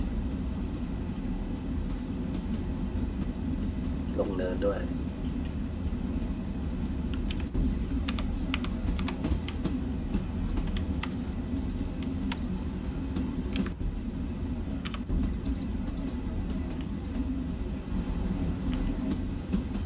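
Electric M7 commuter train on the Long Island Rail Road near Garden City, rolling slowly at about 15 mph with a steady, continuous rumble and hum; faint clanks and squeaks come through partway, with brief speech near the start.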